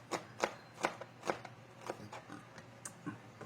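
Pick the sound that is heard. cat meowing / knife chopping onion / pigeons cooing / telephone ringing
knife chopping onion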